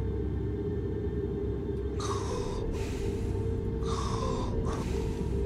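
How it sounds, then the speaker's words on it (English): Snoring from a sleeping character in the indie horror PC game Last Night, two rough drawn-out breaths a couple of seconds apart over a steady low hum, fairly close and moderately loud. "Your snoring is bad."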